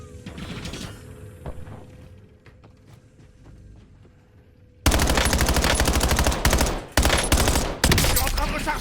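Warzone gunfire begins as scattered shots under quiet game sounds, then turns into loud, dense automatic bursts with short breaks between them.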